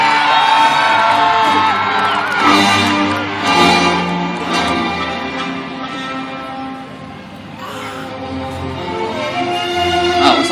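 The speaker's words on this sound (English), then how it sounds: "you better scream and shout." A large crowd screams, whoops and shouts continuously at a Toyota Hilux precision driving show, loud and energetic, with surges of cheering rising and falling.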